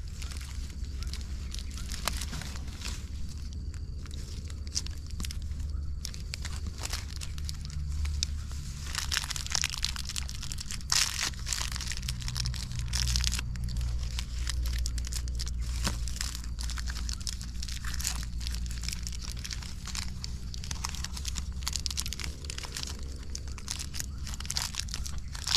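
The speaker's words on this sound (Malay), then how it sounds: "kemudian kita perketatkan dia, ikat menggunakan tali plastik" Plastic sheeting crinkles and crunches continuously at close range while it is wrapped around a grafted citrus tree branch and tied with plastic string, with steady rustling throughout and no speech.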